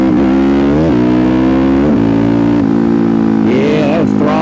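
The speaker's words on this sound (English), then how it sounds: "Let's just do some throttle." A Suzuki DRZ400SM motorcycle engine is revved on the throttle alone, held at a loud, steady buzzing idle with several sharp blips rising and falling, close up and with no talk.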